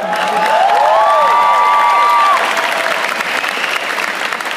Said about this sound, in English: Round of applause for coming out with that.